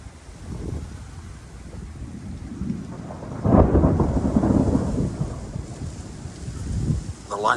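Thunder in a Central Florida summer thunderstorm, a low rolling rumble that swells into a loud nearby crack and then fades over steady rain and wind.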